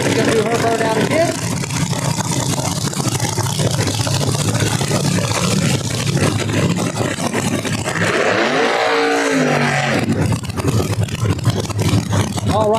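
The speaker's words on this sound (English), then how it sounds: "Paige Coughlin does a short burnout there in the left lane" Drag racing car doing a short burnout in the left lane at a No Prep Kings event at Empire Dragway, with loud continuous engine roar and tire noise alongside crowd noise and a commentator talking over it.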